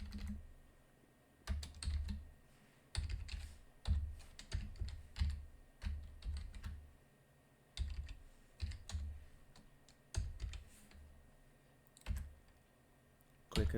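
A username and password are typed on a computer keyboard during an Ubuntu Linux server install, heard as close, clear bursts of key clicks separated by short pauses, with no speech.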